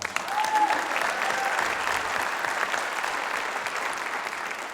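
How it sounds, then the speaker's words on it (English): Audience applause at a wind symphony concert, a steady, moderately loud wash of clapping that continues evenly throughout. "Let's give them a round of applause."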